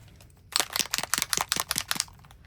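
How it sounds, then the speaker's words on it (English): Distress Oxide tea dye spray is pumped onto paper in about a dozen quick, sharp, evenly spaced spritzes, close and crisp against a quiet room. "we're just going to spray that on"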